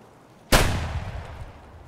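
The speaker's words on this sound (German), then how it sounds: "Hast du dem gerade einfach mit einem Shotgun-Schuss die Lichter ausgeblasen?" A single shotgun blast in the video game Escape from Tarkov, a sudden loud crack that booms and decays over about a second and a half.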